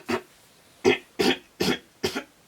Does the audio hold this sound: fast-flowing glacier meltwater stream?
no